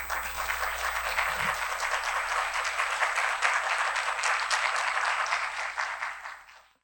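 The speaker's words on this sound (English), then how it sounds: "Please welcome him with a round of applause." A forum audience at a Korean criminology and justice institute event applauds to welcome a speaker, a dense, even wash of many hands clapping that holds steady for several seconds before fading out.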